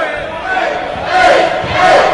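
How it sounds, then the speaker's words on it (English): A wrestling crowd at a Dragon Gate USA show cheers and shouts for a wrestler, the roar swelling in two loud waves of massed voices. "The crowd surprisingly getting behind Mr. A"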